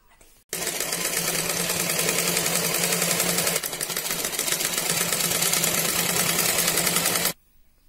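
A sewing machine runs steadily while stitching a bed cover made from an old saree. It whirs close and loud for about seven seconds with one brief hitch in the middle, then stops, and no one speaks.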